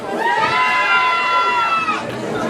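A wrestling crowd roars and cheers loudly throughout, dense shouting voices, with high-pitched yelling rising above the din before it eases slightly near the end.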